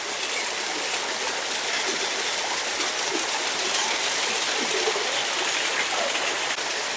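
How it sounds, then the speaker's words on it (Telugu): Ramapuram waterfall in thick forest near Tirupati, a loud, steady roar of rushing, splashing water that fills the whole stretch without a break. "ఇక్కడ చూస్తున్నారా వాటర్ ఫాల్స్ ఎలా ఉందో"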